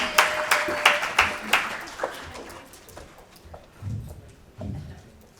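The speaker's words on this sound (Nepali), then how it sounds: "जोरदार तालीको साथ उहाँलाई स्वागत गरिदिनु होला" A short burst of audience clapping greets a speaker called to the stage at an organisation's social audit event, fading within a couple of seconds into scattered claps and faint room noise.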